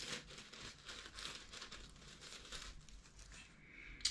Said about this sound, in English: Remove the plastic.